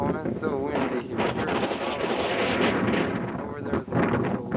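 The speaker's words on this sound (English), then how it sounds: "Oh, it's so windy here." Strong wind buffets the microphone on a lookout above a river near Navajo Lake, a loud, rough rumble that gusts and swells throughout while a person talks over it.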